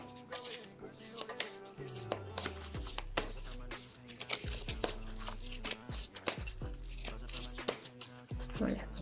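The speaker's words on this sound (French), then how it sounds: "Donc là, je vais mélanger les cartes." A deck of cards is shuffled by hand, producing repeated soft riffling and slapping sounds in an irregular rhythm over a low steady background.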